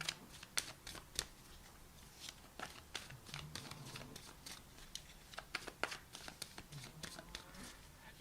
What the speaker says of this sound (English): I'm going to pull some high-level advice and guidance cards for you.